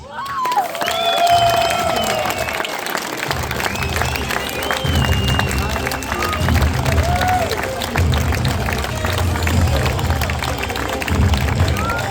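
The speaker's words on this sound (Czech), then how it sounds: "ať mohutným potleskem odměníte tým, který si říká Grillmax" Crowd applause at an outdoor announcement for the best grilled suckling pig contest in Vracov, rising after a short pause into steady, loud clapping with cheers and whistles, mixed with crowd chatter and a voice speaking over it.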